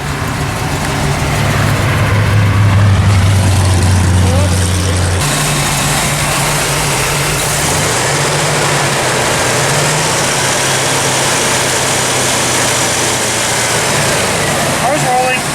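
A hot rod car engine fires back up and settles into a steady idle, a loud low rumble running throughout with voices and outdoor noise around it.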